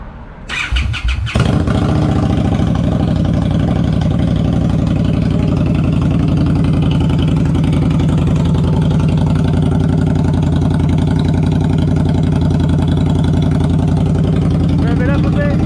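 An Indian Scout Bobber Sixty motorcycle fitted with a GP Shorty exhaust starts up and settles into a loud, steady, rumbling idle close by, running continuously after a brief startup burst.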